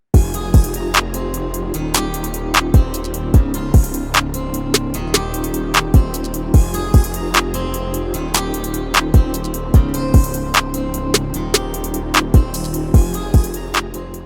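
Guitar parts from a free guitar VST plugin sit in a full production, with a steady beat of sharp drum hits, bass and chords running continuously for about fourteen seconds, loud and without talking.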